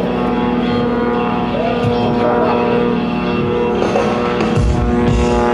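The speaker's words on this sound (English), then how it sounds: "pulling it through the sky is a combination of a 450 horsepower Pratt & Whitney radial engine and a big old Hamilton standard propeller" An aerobatic plane powered by a 450 hp Pratt & Whitney radial engine with a big Hamilton Standard propeller drones loudly and continuously overhead, a rough, throbbing engine roar at an air show.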